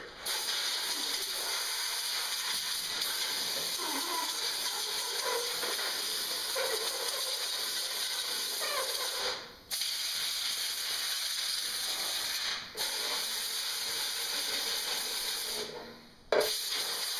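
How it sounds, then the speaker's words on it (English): A blower fan feeding air into a homemade industrial forge, giving a steady broad rushing hiss with a few sudden brief dips and surges as the airflow is adjusted. "So let's give the blower a little blow."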